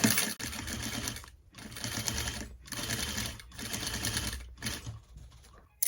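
A sewing machine stitches a zipper into drapery fabric. Its rapid, loud mechanical chatter runs in several sustained bursts, separated by brief pauses, with no speech.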